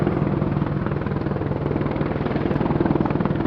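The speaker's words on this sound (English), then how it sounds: "Establishing in the high hover now at 800 feet above the ground, you can see the Apache's powerful hover performance" A British Army AgustaWestland Apache helicopter holds a high hover about 800 feet up at an air show, its rotor producing a steady, loud, continuous throbbing drone with no break.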